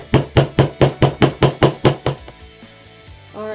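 A hammer strikes a metal bracelet strip to texture it, about ten sharp, evenly spaced blows in quick succession, then it stops and a faint tone rises at the end.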